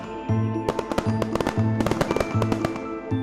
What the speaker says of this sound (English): fireworks can also be seen throughout the country